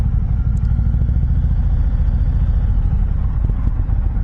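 A 2021 Indian Chieftain Darkhorse motorcycle engine runs steadily and loudly up close, its low rumble slightly uneven under a choppy throttle, with faint clatter and no talking.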